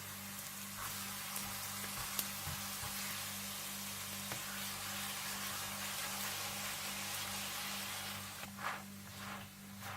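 Maize flatbread cooks on a griddle with a faint, even sizzle. A few soft taps and a brief scrape come as it is turned.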